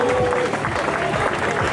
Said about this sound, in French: Vous pouvez les applaudir, toutes ces féminines.